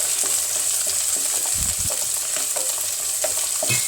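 Capsicum is stir-fried in a pan of gobi manchurian. A steady, close sizzle runs throughout, broken by soft scraping knocks of stirring, and nobody speaks.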